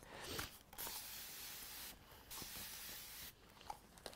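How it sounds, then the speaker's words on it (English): Best Press starch spray misted onto fabric during sewing prep: soft, faint hissing spritzes in several short bursts, close by with no talk. "I'll give it all a good spritz with the old best press."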